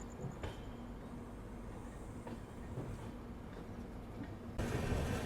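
Long train hauled by a locomotive rolls past on Indian Railways main line tracks, a steady loud rumble of wagons with faint clicking from the wheels, swelling louder as it closes in toward the end.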